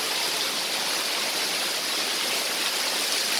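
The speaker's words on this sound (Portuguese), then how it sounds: "Muita chuva aqui." Steady, dense hiss of heavy rain pouring down outdoors, a loud continuous broadband wash that stays even for the whole stretch with no voices over it.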